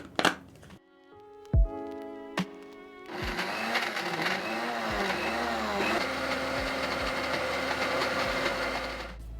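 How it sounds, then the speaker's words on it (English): Small electric grinder blending raspberries into a paste for homemade ice cream. After a few clicks and knocks the motor starts and whirs loudly and steadily, its pitch wavering slightly as the fruit breaks down. "I've placed my raspberries in a small grinder, so I'm going to blend up my raspberries into a paste."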